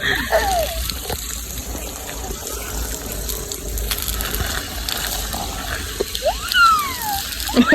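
Water is poured over a plant outdoors, a steady rushing gush with splashing, fairly loud and close. Voices and a child's high sliding vocal sounds come and go over it.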